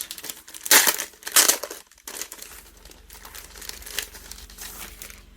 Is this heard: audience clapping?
no